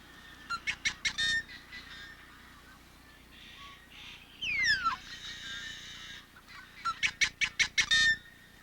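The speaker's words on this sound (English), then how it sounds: "The singing of the males is interpreted as both belligerent and proprietary." Yellow-headed blackbirds sing in a colony on a prairie marsh, with two bursts of rapid, loud, clattering calls and a harsh descending squawk between them, all set against low background noise.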